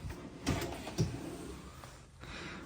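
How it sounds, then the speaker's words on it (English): A pull-out pantry drawer in a 2024 Renegade Veracruz 30VRM RV on a Ford F550 chassis slides with soft rolling rumbles and a couple of dull knocks, quiet and close. "An actual pantry with pull-out drawers."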